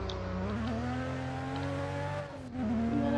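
Lotus Elise race car in a Roblox racing video game, a continuous buzzy engine whine holding a high rev with a brief dip and recovery near the end, loud and close.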